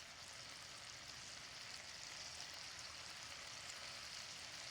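Thin strips of onion sizzling in a pan for garlic butter steak bites, a quiet, steady frying hiss with no break and no voices.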